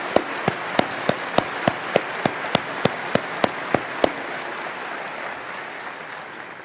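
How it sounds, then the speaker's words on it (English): Applause at the 1994 Berkshire Hathaway shareholder meeting: a steady run of about a dozen sharp, evenly spaced claps sits close over a dense wash of crowd clapping, then the near claps stop and the crowd noise fades. "I'll lead the applause for them."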